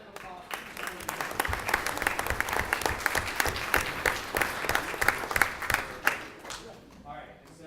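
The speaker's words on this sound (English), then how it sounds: "So round of applause." A room at a school board of education meeting breaks into applause, a moderate, fairly even patter of many hands clapping for several seconds before trailing off.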